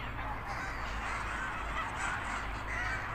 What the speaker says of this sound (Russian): И чайки, и утки, и гуси.